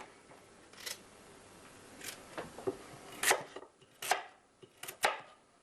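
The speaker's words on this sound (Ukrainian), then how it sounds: "Якщо дуже великі шматочки, можна один раз на навпіл розрізати теж сюди." A knife chops carrots and other vegetables on a board, sparse sharp thuds landing at irregular intervals, close and fairly quiet with no talk.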